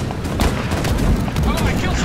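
Cannons fire during a naval battle in the video game Holdfast: Nations at War, producing deep, rumbling booms in close succession over a dense battle din, with voices faintly mixed in.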